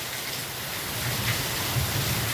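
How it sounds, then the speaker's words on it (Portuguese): Heavy rain falls in Abaeté as a dense, steady roaring hiss with a soft low rumble underneath, continuous and close, with no talking. "Olha que beleza de chuva"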